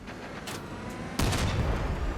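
Heavy artillery cannon fire from a cannon vehicle build in the game Crossout: sharp crackling shots, then a loud boom at mid-clip whose deep rumble keeps rolling to the end.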